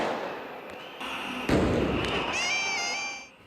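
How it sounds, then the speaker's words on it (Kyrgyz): Fireworks go off at night in Tbilisi during street protests, with distant thuds and booms followed by a faint high whistling trail, all heard from a distance. "Азыр Тбилисиде ар кечте салют атылып жатат."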